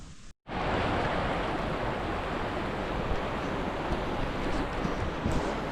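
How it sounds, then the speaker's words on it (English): Running river water rushes in a dense, steady broadband wash, loud and close, after a brief silent gap at the very start, with no voices. "this is another beautiful running water"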